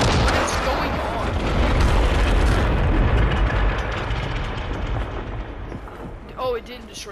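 A massive roaring rumble as a rocket takes off in Fortnite Battle Royale, loud and sustained, slowly fading with a faint whoosh near the end; voices are faintly present.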